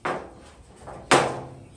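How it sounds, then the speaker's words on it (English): A wide-faced hammer strikes a car fender during rust repair, two sharp metallic blows with the second louder and ringing briefly, close up with no talk. "I'm going to try a hammer with a wider face"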